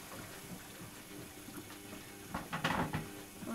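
Water runs into a Tricity Bendix AW1053W washing machine as it fills at a lower level for its second rinse on a cottons 40 wash, a steady hiss that swells into louder splashing near the end.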